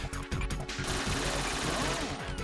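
Rapid gunfire bursts from the video game Metal Gear Solid 2 rattle in quick succession, close and loud, with a voice briefly audible between shots.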